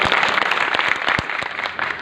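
Steady applause from a crowd, dense clapping throughout with a few louder individual claps standing out.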